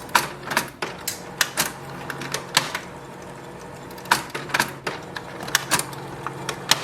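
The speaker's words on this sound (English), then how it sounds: "Automatically it will clean, so it's moving." A Canon Pixma G4270 inkjet printer running automatic roller cleaning whirs and clatters with repeated sharp mechanical clicks and knocks at an irregular pace, close by, with no voices.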